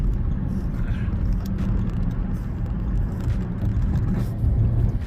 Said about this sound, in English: Let's see how much traffic is out here.